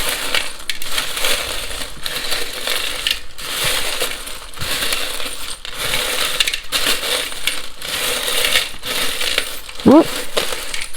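Small metal charms rattle and clink as they are cast and tumble, a dense and loud jangling that runs almost the whole time, with one brief sharp squeak near the end.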